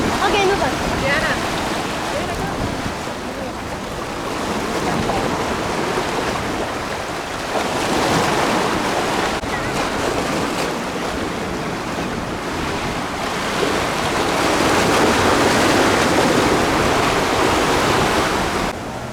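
Rough Atlantic surf breaks on the beach at Sebastian Inlet State Park, Florida, a loud, continuous wash of waves that swells and recedes, with wind buffeting the microphone.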